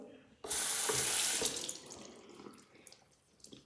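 Tap water splashes hard onto a soap dish being rinsed, a sudden loud gush that eases into softer trickling and dripping after a second.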